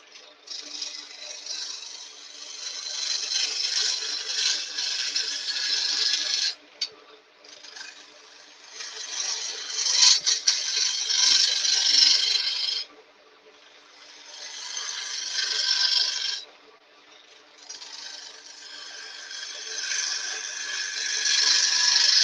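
A bowl gouge cutting olive wood on a spinning lathe, giving a bright, raspy scraping in long bursts of several seconds each, separated by brief pauses, fairly loud and close.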